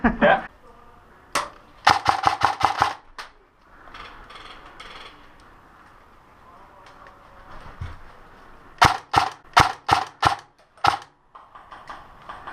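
Airsoft guns fire in sharp bursts of rapid snapping shots during an outdoor skirmish, clustered in quick volleys with pauses between, with people talking in the background.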